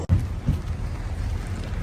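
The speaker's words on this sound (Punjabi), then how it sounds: "ਨਿੱਕੀ ਨਿੱਕੀ ਕਣੀ ਦਾ ਮੀਂਹ ਪਿਆ ਪੈਂਦਾ" Light drizzle patters softly and evenly nearby outdoors in Canada, a steady hiss of fine drops with no voices.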